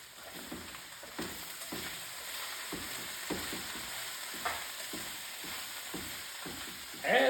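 Cabbage cooks down in an open pan, a steady low sizzle punctuated by regular spatula taps and scrapes roughly every half second, ending in a louder clatter.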